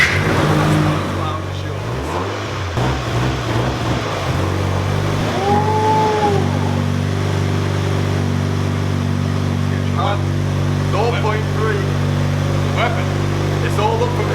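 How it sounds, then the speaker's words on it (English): A Mazda MX5 NC fitted with an SR20 engine runs on a dyno, holding a steady low engine drone with a rising rev sweep partway through, loud and close, with people talking over it. "Let's get this MX5 going"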